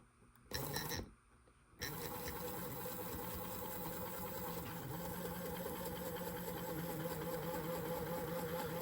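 A small can motor fitted into a brass model train engine whirs steadily at close range, with a continuous buzzing hum and mechanical rattle after a couple of brief starts and stops.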